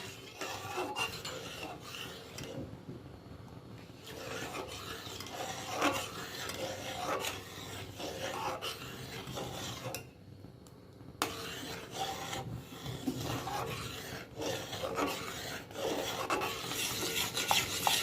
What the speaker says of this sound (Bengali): অনবরত নাড়াচাড়া করতে হবে যেন তলায় না বসে যায়।